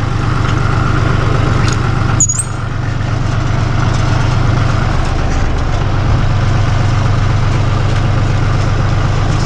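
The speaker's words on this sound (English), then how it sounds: "The tractor never even dogs down. You hear it running." A tractor engine runs steadily at close range while skidding firewood with a Farmi winch, a deep continuous rumble with a low rhythmic throb throughout.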